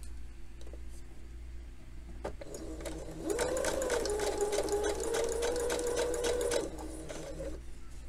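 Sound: sewing machine sewing baby overalls facing seams

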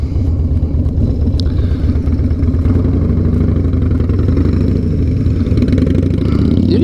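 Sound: motorcycle exhaust

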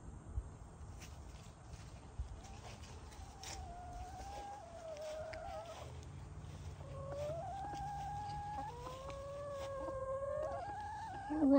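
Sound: chickens clucking

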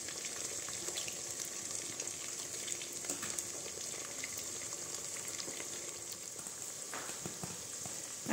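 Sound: eggs cooking in a pan with golden farofa seasonings

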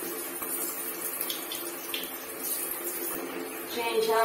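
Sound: running water while bathing a Pinscher dog

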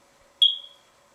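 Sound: paranormal detection device beeping

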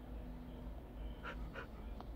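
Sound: dog whimpering in video game Minecraft

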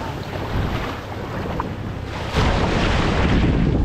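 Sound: waves at the beach in Arraial do Cabo

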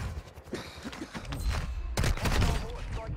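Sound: M4 rifle gunfire in a video game

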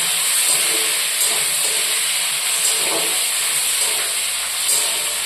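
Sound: tomatoes frying in oil

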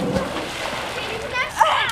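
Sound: child cannonball jump splashing into water

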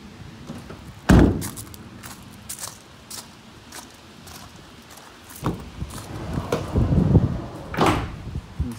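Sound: Ford Transit van side door opening

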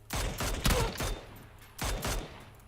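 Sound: gunfire in the video game PUBG

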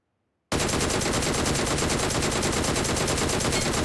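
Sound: gunfire in the video game PUBG Mobile

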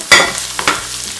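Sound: frying flour with blanched spinach in a pan

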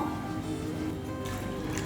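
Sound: water poured onto sprouted chickpeas

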